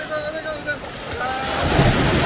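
Ocean surf at Calangute beach rolls in with a rising wash of broadband noise, building louder toward the end, while a voice calls out over the waves early on.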